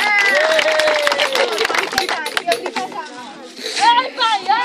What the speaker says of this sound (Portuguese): Palmas pra Davi e Sara